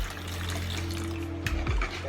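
Water runs steadily from a tap or is poured in a kitchen while spicy chicken is being cooked, a continuous close splashing flow that ends with a few brief clinks.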